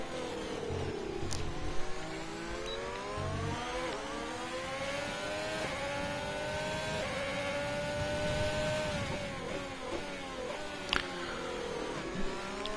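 Racing cars battling and overtaking in a video game race at the Hungary circuit: a continuous high engine whine rises and falls as the cars accelerate and shift, with brief clicks and no voices.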